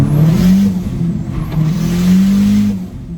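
A 1995 Dodge Dakota pickup with a swapped-in SRT4 four-cylinder engine runs steadily, its low, close engine drone rising and falling slightly with the revs, with no talking.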